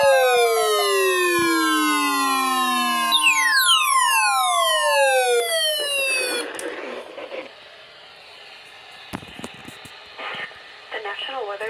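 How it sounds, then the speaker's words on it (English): A National Weather Service EAS weather radio warning alarm from Chanhassen, Minnesota blares as a loud steady two-tone siren-like signal, followed by quieter broadcast noise and static. "The National Weather Service in Chanhassen, Minnesota has just activated the warning alarm on 13 weather radio stations"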